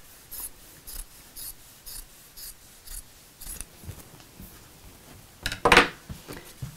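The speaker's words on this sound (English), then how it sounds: "I'm going to trim that seam back a bit" Scissors snipping to trim back a fabric seam on a sewing project for a tote bag, a quick series of soft close cuts followed by a louder rustle of cloth near the end.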